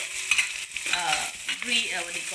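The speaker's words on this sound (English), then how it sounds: "I'll just put in the onion and fry it for some time" Onion frying in a pan for an Assamese fish and leafy greens dish: a constant loud sizzle, with scraping stir strokes and clinks from the utensil against the pan, and no talking.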